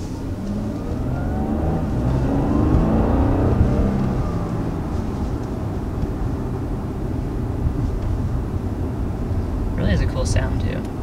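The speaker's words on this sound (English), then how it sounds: "Yeah, it has like almost a whine too. Yeah, you can hear the turbo." A 2019 Audi A6 sports sedan accelerating, its turbo engine giving a rising whine over a steady road and engine drone heard from inside the cabin, with people talking over it.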